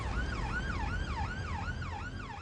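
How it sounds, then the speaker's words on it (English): An ambulance siren on blue lights wails in a steady, rapidly repeating rise-and-fall sweep, fairly faint and distant over low road rumble, with no talking. "When on blue lights and sirens"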